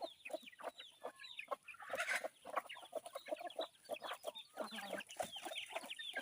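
Domestic backyard chickens cluck and squawk in dense, overlapping bursts throughout, close and fairly loud, with several birds calling at once on a farm.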